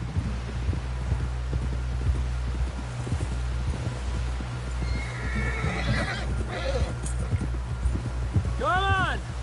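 A horse in Red Dead Redemption 2 clip-clops along at a steady pace, and a whinny rises near the end. Voices speak over the hoofbeats.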